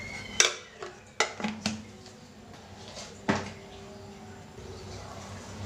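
A metal lid set onto a pot of horse gram sambar in a home kitchen, giving a few sharp clanks and clatters close by in the first seconds, followed by a quieter rattle and low background hum.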